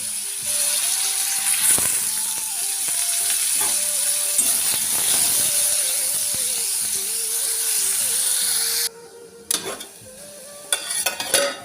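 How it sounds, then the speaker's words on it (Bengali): Potatoes frying in hot oil in a wok give a steady, fairly loud sizzle with occasional stirring clatter, and the hiss drops off sharply near the end, followed by a few brief scraping knocks. "কড়াই দিয়ে দিয়েছি তেল গরম করতে, আলু ভেজে নেবো"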